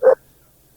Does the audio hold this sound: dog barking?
yes